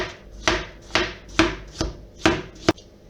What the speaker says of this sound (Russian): Бананы нам нужно нарезать тонкими долечками, буквально 2-3 миллиметра.